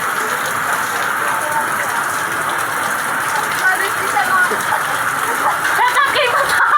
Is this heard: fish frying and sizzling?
no